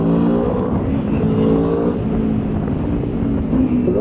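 An Aprilia RSV4 1100 Factory motorcycle accelerates on twisty roads, with a loud, close engine drone and rising harmonic tones. The pitch climbs and then settles into a steady rumble, with no voices.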